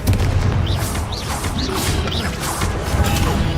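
Confringo blasting spells exploding in Hogwarts Legacy combat, heard as a loud, dense run of booms, crashes and whooshing magic effects with bright rising chirps repeating throughout.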